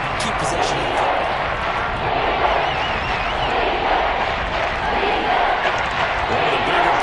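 Steady roar of a stadium crowd in a football video game, loud and sustained, with a commentator's voice talking over it.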